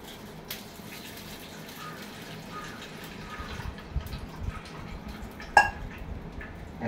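Fresh coconut milk is strained and poured in a home kitchen, making a soft, steady trickle of liquid with a small splash and clink near the end.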